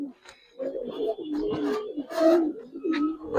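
Pigeons of a coloured Giribaz breed coo in a series of soft, throaty, rolling calls close by, with short pauses between phrases and no talking.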